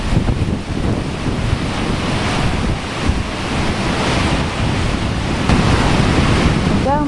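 Heavy ocean surf during Hurricane Sandy, waves from several directions colliding and bursting upward, a loud continuous roar mixed with strong wind buffeting the microphone, no voices.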